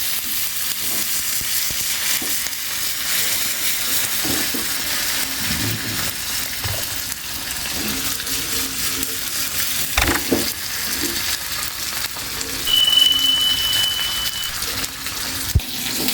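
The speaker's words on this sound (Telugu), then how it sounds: "ఇదిగోండి కరివేపాకు వేసాను." Curry leaves hit hot oil for an Andhra-style gongura mutton curry, making a loud, continuous sizzle and crackle close by, with occasional clinks from stirring and no talking.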